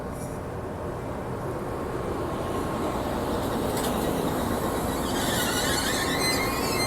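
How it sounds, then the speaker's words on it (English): An Amtrak train with a Siemens SC44 Charger locomotive rumbles steadily past at the Oakland Coliseum station, its low mechanical roar building slightly, with a faint metallic squeal of wheels rising near the end. "What an SC44 Siemens Charger in the back."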